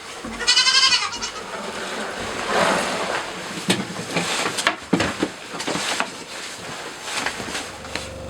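Goats bleating on a farm, does and young doe kids calling in repeated wavering cries, close and fairly loud, over outdoor background noise and shuffling.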